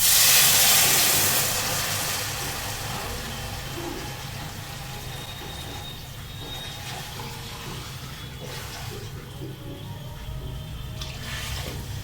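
Water poured into a pan of cooking jackfruit seeds gives a loud rushing hiss at the start that settles into a steady simmering fizz, with faint clinks and bubbling throughout and no voices.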